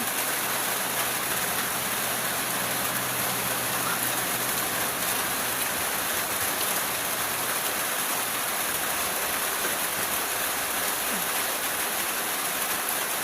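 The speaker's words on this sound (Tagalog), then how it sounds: "Maulan po dito sa amin." Steady rain falling outside a home in bad weather, a constant dense hiss of drops on surfaces that holds even throughout, with no voices.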